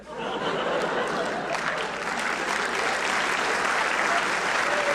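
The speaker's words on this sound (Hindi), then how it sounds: "ये ताली बजाने की थोड़ी बात है" An audience in a lecture hall at IIT Patna breaks into sustained applause, a dense, even wash of clapping that holds steady throughout, with faint chuckles mixed in.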